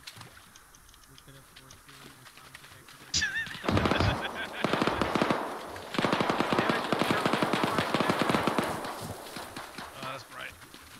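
Automatic gunfire in the military shooter Arma 3 rattles in rapid loud bursts, with sustained rattling fire after a quieter lead-in, under excited voices of players talking.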